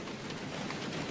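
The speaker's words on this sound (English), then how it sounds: "The rain's letting up." Steady, fairly faint rain falls continuously as a dense, even hiss with no talk over it.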